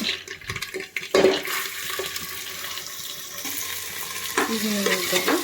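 Chopped gherkins (tondekai) and cluster beans (gorikai) tipped into hot oil sizzle and crackle steadily, with scraping and stirring clatter and a louder burst of frying near the end.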